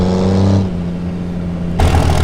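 A built 2006 Cummins common-rail diesel pickup truck engine, tuned for about 1000 horsepower, roars loud and close, drops to a lower idle, then revs hard again near the end.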